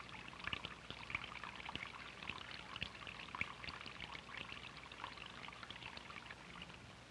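A thin stream of water pours and trickles in an old 16mm science film demonstration of static electricity, a faint, steady splashing patter with small bright droplet ticks, heard alone without talk.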